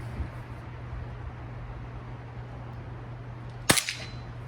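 A Chinese spring air rifle fires a pellet: one sharp, close crack near the end, with a short ringing rattle after it over a faint steady hum.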